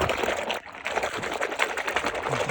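Shampoo is worked into a lather in a bucket of water, giving a busy churning and sloshing with a short pause partway, fairly close and without speech.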